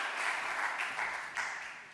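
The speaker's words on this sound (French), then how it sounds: "Un tonnerre d'applaudissements" Faint, distant applause from an audience at a startup pitch event, a soft continuous wash of many hands clapping that swells slightly and then fades.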